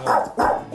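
A dog gives two quick, close, loud barks in a row indoors during a training consultation.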